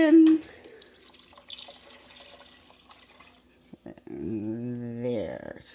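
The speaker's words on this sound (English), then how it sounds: "I will take my trusty pitcher, my soup pitcher, and fill her up." Tap water runs into a soup pitcher in a home kitchen, a thin trickle faintly heard under a person talking, ending in a louder rush of filling water.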